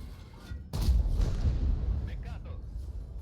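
The CC-1 Mk.2 tank's main gun fires once in World of Tanks, a sudden heavy boom followed by a long rumbling tail. Background game noise runs underneath, with brief voice sounds near the end.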